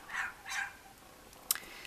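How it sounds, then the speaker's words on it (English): A dog barks outside, giving two faint, distant barks close together, followed by a brief sharp knock. "Sorry if you hear some dog barking outside."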